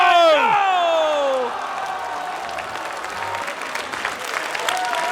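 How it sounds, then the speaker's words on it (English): An audience at an osu! video game tournament applauds steadily, with a few whoops, after a descending electronic tone sweeps down at the start. "Give a round of applause for both of our players."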